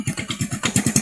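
A repaired motorcycle that had failed to start and lost its dashboard indicator light now runs close by, its engine thumping in a quick, steady rhythm of even pulses.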